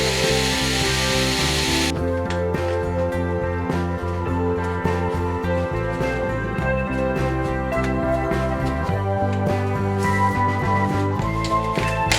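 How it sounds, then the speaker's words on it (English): A power drill boring through a 2 cm aluminium pipe, a loud steady whine whose pitch shifts in steps as the bit bites, with a harsh hiss at the start, close and alone. "I also drill through the 2 cm wide aluminium pipe."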